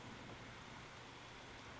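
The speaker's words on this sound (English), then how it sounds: "Oh, now the rain starts." Rain beginning to fall outside, heard from inside a room as a faint, steady, even hiss with no distinct drops or thunder.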